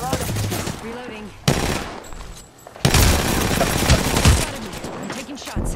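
Automatic weapon fire in the battle royale shooter Apex Legends, rapid bursts of gunshots rattling close and loud in dense volleys, with a brief lull midway before the shooting resumes.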